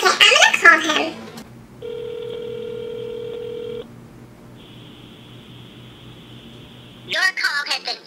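A telephone call rings out as a steady electronic ring tone for about two seconds, then a fainter tone follows. Voices talk before and after.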